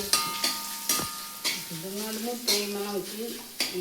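Chillies and curry leaves, with garlic, sizzle in hot oil while a spoon stirs and scrapes the pan in repeated clanking strokes over a steady frying hiss, with a voice talking throughout.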